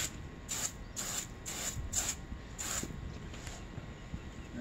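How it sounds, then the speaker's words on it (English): Black paint softened with raw umber is sprayed onto wet, textured fake rocks, heard as about six short hissing bursts in a quick uneven rhythm, close and fairly quiet, with no talking. "And then I spray."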